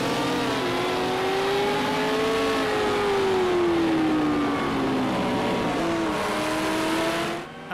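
Vintage Porsche race car from the Porsche Legends Pack in a racing video game, engine holding a sustained, wavering tone that rises and dips through gear changes, loud and close throughout, then fading sharply at the end, with no voices.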